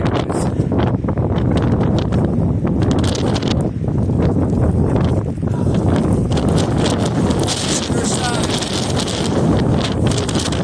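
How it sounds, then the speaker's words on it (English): Strong wind buffets a mountain summit on the Appalachian Trail, roaring and gusting loudly across the microphone for the whole stretch, with uneven surges and fainter rustling beneath. "So it's awfully freaking windy in here."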